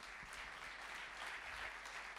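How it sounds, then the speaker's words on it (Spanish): Applause at the draw for a youth champions cup football tournament, a steady patter of clapping from a crowd lasting the whole moment. "Un aplauso para Mauro, que ha estado muy bien."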